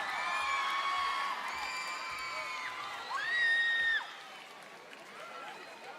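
At a town anniversary festival in Río Gallegos, an outdoor crowd applauds and cheers to welcome a band, with high shrieks and whoops over steady clapping that swell briefly before easing off.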